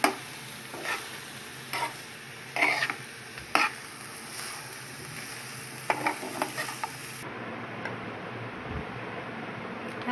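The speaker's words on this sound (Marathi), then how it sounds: "हा राईस आपण हलक्या हाताने परतून घेणार आहे" Rice for a vegetable pulao is gently turned in a pan, with a soft sizzle beneath intermittent light scrapes and taps of a spoon, close and fairly quiet, the sizzle easing off near the end.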